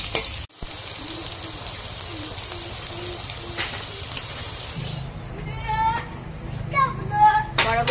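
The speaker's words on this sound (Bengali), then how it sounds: "বড়াগুলো ভাজা হয়ে গেছে, এই দেখুন লাল লাল করে ভেজে নিয়েছি।" Drumstick flower fritters fry in hot oil, giving a steady close sizzle and crackle throughout, with a few faint bird-like chirps in the background toward the end.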